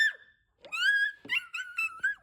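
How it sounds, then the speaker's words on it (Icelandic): A seagull calls out over the sea from a hillside, giving a short cry followed by a run of four or five loud, shrill, harmonic squawks in quick succession, close and clear with no talking. "Gargið í mávinum heyrðist hæst."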